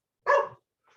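A deaf dog lets out one sharp, fairly loud bark, followed by a much fainter, brief second yip after a short pause.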